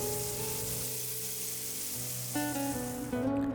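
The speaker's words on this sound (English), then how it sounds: "Once done, I'll add the tempering and the chutney is ready" Tempering crackles and sizzles steadily in hot oil as it goes into a chutney, the frying hiss continuous and close, with some tonal kitchen clatter near the end.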